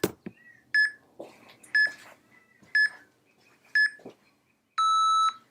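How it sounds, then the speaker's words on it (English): A workout interval timer gives four short, evenly spaced electronic beeps about a second apart, then one longer, fuller tone, with faint rustling movement between them. "So I've got my timer here."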